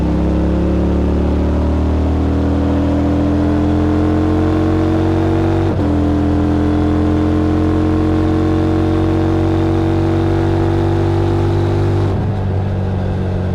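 A car's exhaust revving, captured with the recorder right beside the tailpipe: a loud, sustained engine drone that climbs slowly in pitch, dips with a sharp shift partway through, then climbs again before easing off.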